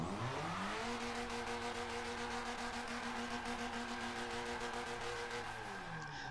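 A car engine in a racing video game revs and accelerates continuously, its rising and falling engine pitch loud and close, with no talk over it.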